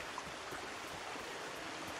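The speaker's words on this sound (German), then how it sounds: "So, hier ist ein Fluss." A river flows in Kena: Bridge of Spirits with a soft, steady rushing wash of water, faint and even, with no other sounds over it.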